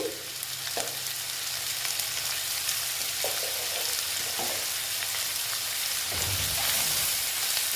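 Potatoes fry in a pan with a steady, rain-like sizzle, broken by a few soft clinks and stirring knocks, with no one speaking.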